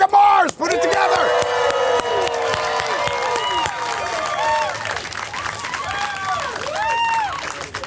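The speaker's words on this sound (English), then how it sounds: "That's the longest sustained applause we've had so far on the boat." A San Diego Comic-Con 2019 audience on a boat greets the Veronica Mars creator and cast with sustained loud clapping, whoops and cheers that hold steady for the whole stretch.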